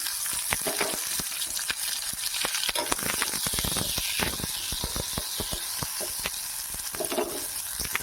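Onions and whole spices with a little urad dal crackle and sizzle in hot oil for a Chettinad onion curry, a steady dense hiss broken by sharp pops and stirring scrapes, close and loud with no voices.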